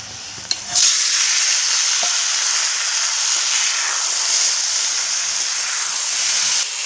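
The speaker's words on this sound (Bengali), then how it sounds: "পেঁয়াজটা লাল করে ভাজা হয়ে গেছে, এবার আমি লতিটা দিয়ে দেবো।" Taro stolons hit a pan of oil with onions fried until reddish-brown, bursting into a loud, steady sizzle after a brief clatter, continuing alone without talk.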